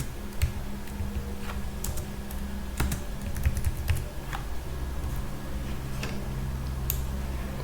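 Close computer keyboard keystrokes come in a scattered run of light clicks with short bursts and pauses, including copy and paste shortcuts, over a steady low hum.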